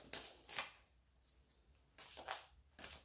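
Two quick bursts of tarot cards being riffled together, then a pause, followed by a second pair of shuffling bursts, close and moderately quiet.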